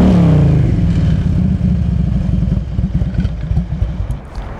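A carbureted Harley Davidson Road King FLHR motorcycle engine starting up and settling into a loud, lumpy, uneven idle close by, with a rising whine at the start and no voices.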